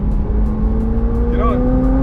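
A McLaren 720S supercar accelerates hard on an open road, its engine note rising steadily as the revs climb, loud and close from inside the car, with a brief whine near the end.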